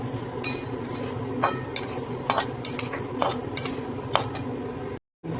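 Whole coriander seeds dry-roasting in a pan for a Marathwada-style black spice blend, heard as a steady faint rustle broken by repeated scraping and clinking strokes of a spoon against the metal, with no voices.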